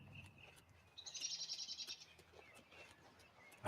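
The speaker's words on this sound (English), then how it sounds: "Oh, this is lovely. The birds are chirping." Birdsong in a video game: a bright burst of repeated chirps in the middle, moderately loud over a faint background ambience, with fainter calls around it.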